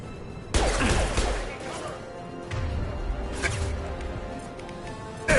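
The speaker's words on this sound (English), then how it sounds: "Firing concussive shot!" A concussive shot fired in the Mass Effect 2 video game: a sudden loud blast followed by crashing impacts and rumbling combat noise, with an in-game voice speaking over it.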